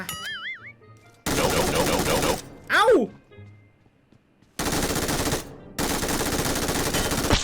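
Video game MGX4 gun fires in two long sustained bursts of rapid automatic gunfire, loud and close, separated by a short pause, with a brief sweeping whoosh between them and quiet lulls in the gaps.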